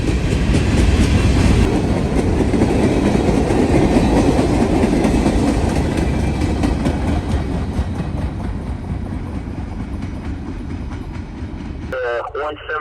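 A Norfolk Southern freight train led by a rebuilt AC4400CWM locomotive in flagless Union Pacific paint rolls steadily past on the Dayton District, with a continuous heavy rumble and clickety-clack of wagons that eases slightly toward the end.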